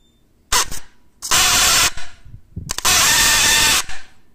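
A Land Rover Discovery 3/4 electronic parking brake motor jamming gives loud, harsh grinding whirs in two long bursts with short stuttering clicks between, heard close and alone.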